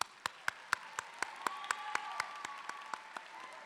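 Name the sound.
applause for graduates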